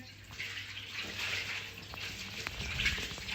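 Tap water runs steadily and fairly softly while fish and then chicken are rinsed in a home kitchen, a continuous splashing gush with small spatters and no talking.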